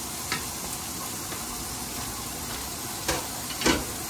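Onion sautés in a pan while being stirred, a constant dense frying hiss with a few short spatula scrapes, the last one near the end louder.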